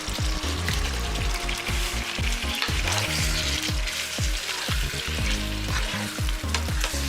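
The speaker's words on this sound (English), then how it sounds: "I'm going to add 5 sliced tomatoes" Five sliced tomatoes frying in a pan with methi, a steady loud sizzle running throughout under repeated stirring scrapes and clatters of the spoon, close up with no voices.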